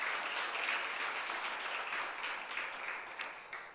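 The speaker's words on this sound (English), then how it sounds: "Let's give a round of applause for all those who are present" Steady round of applause from an audience at a higher-education capacity building workshop, dense continuous clapping at moderate level that thins slightly toward the end, with no voices over it.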